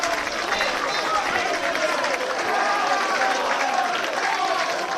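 Crowd applauding at a university rugby match between Nottingham and Swansea, steady dense clapping and cheering from spectators, with a commentator's voice running over it throughout.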